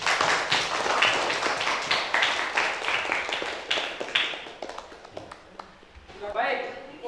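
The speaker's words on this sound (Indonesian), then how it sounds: "Kita beri aplaus untuk kelompok 1." A classroom group claps for a finished presentation, a burst of quick, uneven hand claps that thins out and fades over several seconds, with speech briefly heard at the end.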